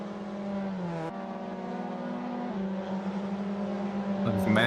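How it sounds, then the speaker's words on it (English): Mazda MX-5 Cup race cars on the Charlotte Roval circuit, one engine droning loud and steady with a sudden pitch shift as it changes gear, holding a high rev whine before rising again, close and continuous. "We've got 20 cars on track tonight."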